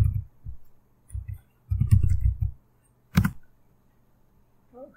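Computer mouse clicks sound in short bursts, a few isolated taps and a quick cluster, with one sharper click, close and fairly soft against a quiet background.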